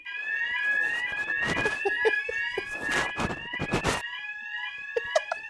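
A shrill smoke alarm, set off by a smoke machine, beeps insistently throughout, with clattering and background noise underneath.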